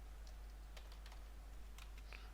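Quiet computer keyboard typing, a handful of light key clicks in an irregular patter over a steady low electrical hum.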